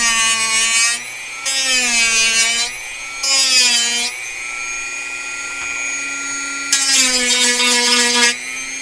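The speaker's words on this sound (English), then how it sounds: "Let's go ahead and Dremel this." A Dremel rotary tool cuts plastic in four bursts of high, whining grinding, with a quieter steady motor hum between them.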